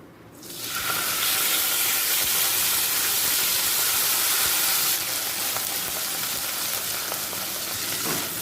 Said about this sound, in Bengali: এই সময় দিয়ে দেব বেটে রাখা আদা টমেটো কাঁচা লঙ্কা